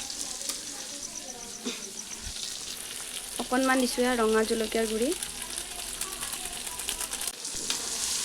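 Ginger-garlic paste and ground spices fry in hot oil for a biryani, giving a steady close sizzle throughout, with someone speaking over it partway through.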